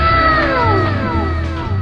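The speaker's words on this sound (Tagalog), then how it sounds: "Pusa, ang ganda." A cat meows with drawn-out, falling wails at a beach resort on Boracay, loud and close over a busy low background hum and faint crowd noise.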